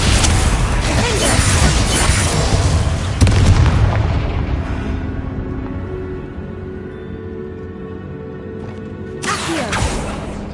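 Confringo spell explosions in Hogwarts Legacy: loud booming blasts with a harsh burst of noise that rumbles and fades over several seconds, then a fresh explosive burst erupts near the end.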